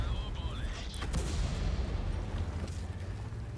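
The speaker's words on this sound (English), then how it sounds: "I'm going to deal with that Waffenträger with high explosive round" A tank gun fires a high explosive round at a Waffenträger in World of Tanks, a single heavy boom near the start with a long low rumble trailing after it, amid steady battle noise.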